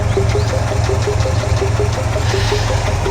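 Volkswagen Golf engine idling after its hydraulic lifters were replaced, a steady low hum with a faint regular ticking pulse running through it, close and continuous with no voices.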